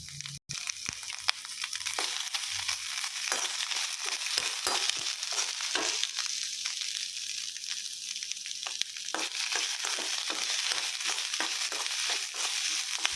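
Paneer cubes lightly frying in a pan, a steady broadband sizzle with scattered crackles and small clicks of stirring running throughout, close and fairly even in level.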